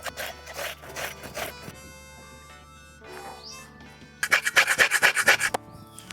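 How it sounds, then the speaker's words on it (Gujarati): Cucumber rasped against a grater in quick rhythmic strokes, two bursts of scraping separated by a pause, close over soft background music. "કાકડીને છીણી લઈએ."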